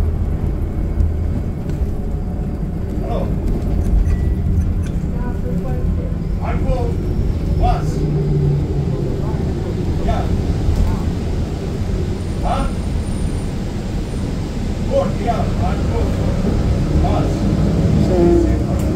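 A steady low engine rumble fills the whole stretch, like riding inside a moving bus, with faint voices and small knocks under the drone.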